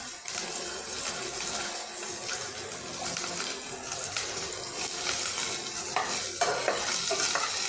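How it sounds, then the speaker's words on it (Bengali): Chopped onions frying in a pan, stirred continuously with a dense, close sizzle and scraping and spoon clatter over the hot oil. "পেঁয়াজটা একটুখানি নেড়ে নিয়ে পেঁয়াজটা নাড়া হয়ে গেছে"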